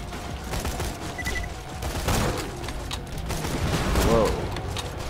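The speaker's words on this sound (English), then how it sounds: "A triple grenade launcher?" Triple grenade launcher firing in the video game Borderlands 2, heard as a dense, continuous wash of gunfire and blasts that swells toward the end, loud and close, with voices mixed in.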